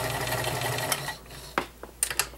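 A vintage 1946 Kenmore free-arm convertible sewing machine stitches through five layers of denim in a steady mechanical whir for about a second, then stops, followed by a few sharp clicks and knocks close by.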